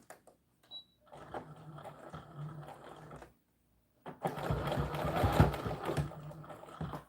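A sewing machine stitches the armhole facing of a doll dress in two close bursts, a softer run followed after a short pause by a louder, faster one.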